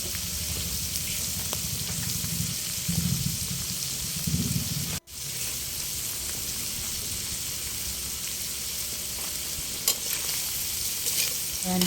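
Bopis stirred in a hot pan, a steady close sizzle and frying hiss with scraping stir strokes throughout and one brief dropout partway through.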